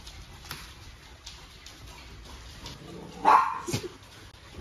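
Stray dogs at a rescue shelter in Wuhan, China, with a couple of short barks and yips from fairly near over a quiet outdoor background, the loudest bark coming late.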